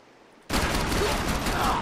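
Sustained gunfire from the Max Payne 3 video game erupts abruptly after a quiet half second, a dense, loud burst of several shooters firing at once that continues without pause.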